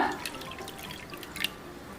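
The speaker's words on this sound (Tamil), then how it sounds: "எந்த கப்பில் சர்க்கரை எடுத்தீங்களோ அதே கப்பில் தண்ணி ஆட் பண்ணிக்கோங்க" Water pours and splashes into a sugar-filled frying pan with a steady hissing, bubbling wash, close and moderately loud, with no talking.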